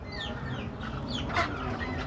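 Desi chickens in a rooftop coop give soft, scattered clucks and chirps, fairly faint over a steady background hum, with no voices.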